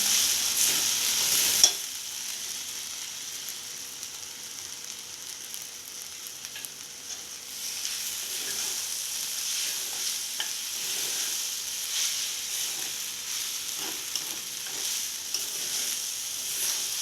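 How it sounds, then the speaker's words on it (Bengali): Soya chunks with soy and tomato sauce sizzle steadily in a pan, with a sharp clatter early on, then continuous frying hiss and occasional soft scrapes of stirring. "এবার আমি এটা সোয়া সসটা দিয়ে দিচ্ছি ভালো করে মিশিয়ে নেব এর মধ্যে আমি টমেটো সসটাও দিয়ে দেবো"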